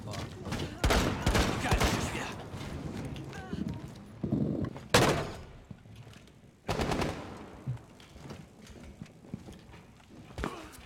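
Gunfire in the game Rainbow Six Siege: sharp bursts of rapid automatic shots and single loud cracks separated by gaps, with a short burst near the end, heard close and loud.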